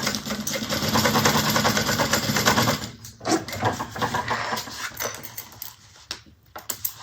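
A sewing machine runs a basting stitch to close a bag, a close mechanical whirring hum for about three seconds, then stops into shorter handling noises and light rustling.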